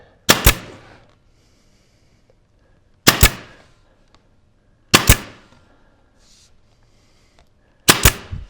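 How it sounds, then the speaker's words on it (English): A pneumatic nail gun driving nails into the 45-degree corner of a reeded door frame: four sharp, loud cracks spaced a few seconds apart, each with a short ringing decay, with quiet in between. "I'll take my nail gun and come around and I'll hold it flat"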